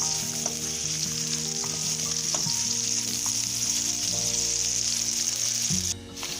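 Steady sizzling of onions frying in a pan for moong dal, cooked to light brown, with occasional scraping and clinks as a spoon stirs them, no voices.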